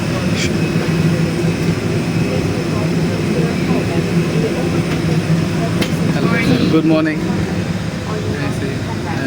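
Inside an airliner cabin on a flight from Guangzhou, China, to Bangladesh, a steady engine roar and air hiss fill the space while passengers chat nearby.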